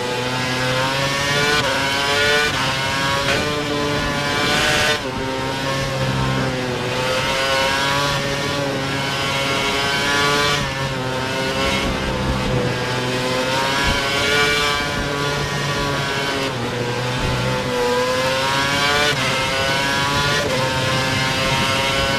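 A race car engine revs hard and steadily at Suzuka in a video racing game, its loud, continuous drone rising and falling through gear changes with no voices.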